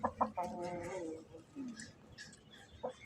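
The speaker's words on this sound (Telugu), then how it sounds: "ఇదండి తెల్లకోడి." A white hen gives several short clucks up close, in brief bursts with a drawn-out cluck near the start, and faint rustling between.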